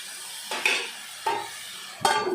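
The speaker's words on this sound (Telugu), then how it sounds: "ఇట్లా తిప్పేసి ఏం చేస్తానంటే మూత పెడతాను" Three sharp metallic clanks of a lid and utensil against a pan of cooking tomato curry with turmeric, salt and oil, spaced about a second apart, with a soft sizzle beneath.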